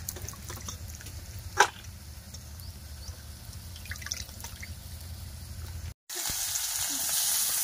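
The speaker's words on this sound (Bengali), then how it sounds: "পেঁয়াজ আর কাঁচা লঙ্কা দিয়ে দিলাম তেলের মধ্যে।" Onion and green chili hitting hot oil, a steady close sizzle with crackles and one sharp clink, then after a brief gap the frying turns louder and denser.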